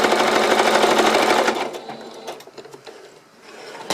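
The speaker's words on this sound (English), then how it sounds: "All my machine stitching is done." A sewing machine stitches a mini quilt, running in a loud, fast, steady close-up whir for about a second and a half before stopping, leaving fainter handling noises.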